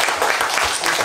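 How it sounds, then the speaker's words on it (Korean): Church congregation applause, a short burst of dense clapping from a crowd of worshippers that lasts only about a second. "주님 영광 감사의 박수 한번 올려드리겠습니다."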